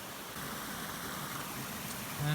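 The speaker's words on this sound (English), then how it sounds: "Footbridge to a little waterfall." Small waterfall beside a footbridge on a trail in Acadia National Park, a steady, even rush of falling water filling the background, constant and moderately loud throughout with no talking.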